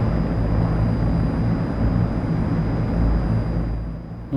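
The AzurPoly C-160 propeller engines in MSFS 2024 give a steady, loud droning roar with a low pulsing hum and a thin high whine, continuous throughout and dipping slightly at the end.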